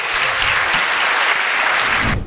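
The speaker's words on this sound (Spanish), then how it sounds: "un fuerte aplauso para ella" Loud, sustained applause from a crowd, steady clapping filling the space before cutting off abruptly at the end.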